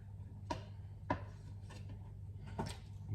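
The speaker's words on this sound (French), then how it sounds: "je coupe des lardons d'à peu près 1 cm que je vais recouper" A knife chopping bacon lardons of about one centimetre on a board for a quiche lorraine, four soft distinct cuts spaced roughly half a second apart, faint and close with no speech.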